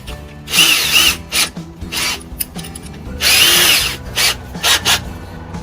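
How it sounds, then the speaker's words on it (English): A power drill with a 1/4 inch bit whirs in repeated bursts, spinning up and biting into a Bradley smoker's housing several times with brief pauses between, loud and close. "you need a 1/4 inch bit to drill the holes"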